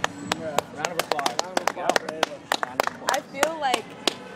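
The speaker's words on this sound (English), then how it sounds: "Round of applause." A small street crowd at a hypnosis performance claps in sharp, scattered bursts at close range, mixed with excited voices and talk throughout.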